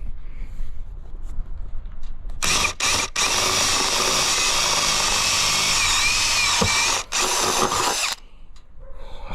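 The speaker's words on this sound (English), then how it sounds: "Right, I'll drill a hole there." A power drill bores a hole in the body of an Iveco Daily van, whining loud and close for several seconds with two brief pauses near the start and one more near the end, then stops.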